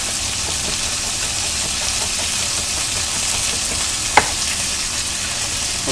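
Chicken pieces browning in a pan give a steady, dense sizzle that hisses on without pause, loud and close, with one brief clink near the end.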